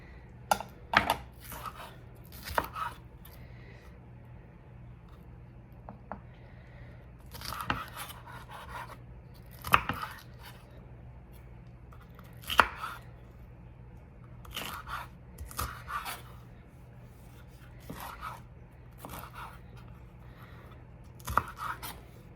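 Crisp, irregular knife chops through a bell pepper on a board, a handful of sharp crunchy strikes spaced out with quiet pauses, close and fairly soft.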